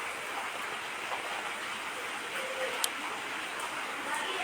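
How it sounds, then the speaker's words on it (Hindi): Heavy rain falls in Lucknow as a dense, continuous hiss that stays loud and steady throughout, with an occasional faint tick or drip standing out above it. "हमारे लखनऊ में तो बहुत बारिश हो रही है आज"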